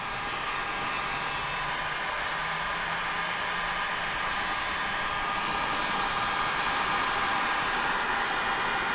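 A heat gun blows a steady, even hiss of hot air over paint protection film on the front bumper of a 2025 Audi RS Q8, with no change in tone and no talk.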